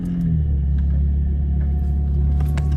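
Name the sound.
car engine running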